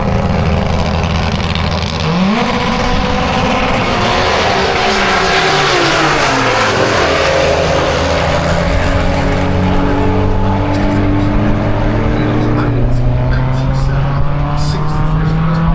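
A six-cylinder drag racing car accelerates hard down the strip in open qualifying for a Doorslammers event, its loud engine note climbing steadily through the gears and holding close and continuous throughout.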